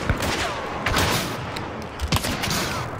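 Video game gunfire in a bayou setting: several sharp bursts of shots ring out over a busy background, with a couple of louder cracks near the end.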